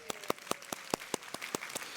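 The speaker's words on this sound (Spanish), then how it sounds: "Un aplauso a mis ayudantes." Claps ring out in a slow, irregular rhythm for a preacher's assistants in a church service, a sparse handful of hands heard fairly close, roughly ten distinct smacks over two seconds with faint room noise between.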